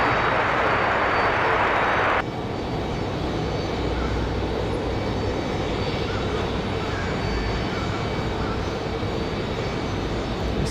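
An Airbus airliner takes off from runway 23 left at Raleigh-Durham International Airport on a windy day, its engines a loud, sustained roar that drops slightly in brightness after the first couple of seconds and then holds steady.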